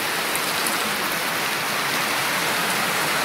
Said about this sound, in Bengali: এদিক দিয়ে অনেক বৃষ্টি হচ্ছে